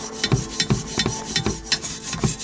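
A nylon brush scrubs a motorcycle exhaust header coated with Simple Green degreaser, making quick, rhythmic rasping strokes, about four per second, close up and steady with no talking.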